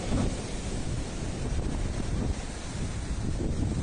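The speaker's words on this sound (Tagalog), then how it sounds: "Medyo maalon. Parang masarap mag-surf." Rough surf and strong wind on a Boracay beach make a constant heavy roar, with deep wave rumble and buffeting gusts on the microphone, loud and close with no break.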